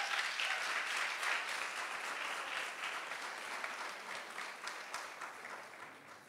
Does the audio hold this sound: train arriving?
no